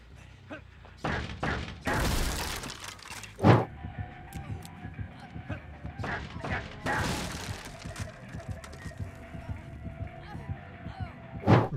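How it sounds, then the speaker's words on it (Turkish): In Dead by Daylight, the killer smashes through a breakable wall with a series of heavy thuds and crunching impacts, loud bursts separated by quieter gaps over a low background hum. "Sıradaki animasyonumuz kırılabilir duvar kırma animasyonu."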